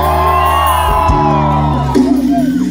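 A festival crowd of Flamengo football fans at the Porto Grande pineapple festival roars and shouts together, a loud sustained mass of voices with whoops rising and falling over a few seconds.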